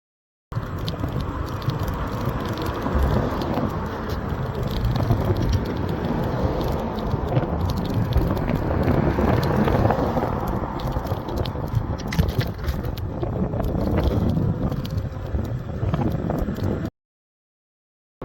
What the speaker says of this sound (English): One final flat-out run, and the original Ninebot is first out.